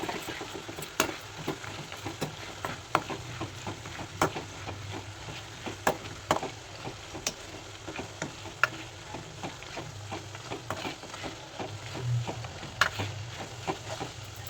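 Green chillies with turmeric, salt and a paste sautéing in a pan, a faint steady sizzle with scattered ticks and stirring clicks throughout, no voices.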